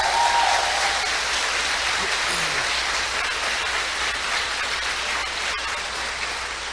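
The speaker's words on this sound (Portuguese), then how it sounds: "Aplauda o Senhor pela vida do Cezinha." Church congregation applauding during a celebration service, a loud, sustained roar of clapping that fills the room and stays even throughout, with no talk over it.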